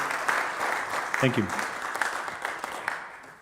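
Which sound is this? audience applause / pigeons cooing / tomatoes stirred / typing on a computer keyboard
audience applause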